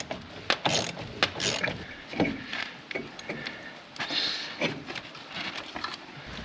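A wrench works the shock bolts on a Chevy 2500 during a solid axle swap: close metallic ratcheting clicks and clanks in irregular bursts, with rattling and knocks against the truck in damp outdoor conditions.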